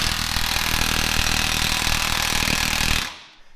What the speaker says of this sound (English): I had to grab a bigger 1/2-inch impact to see if it will spin it.